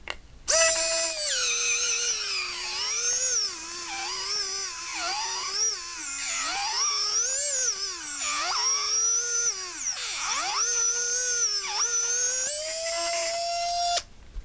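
A BLAZnTECH motorized AR-15 cleaning system spins with a loud, close, high-pitched whine that wavers steadily up and down in pitch as the load changes, like a dentist's drill, continuous for about thirteen seconds before cutting off.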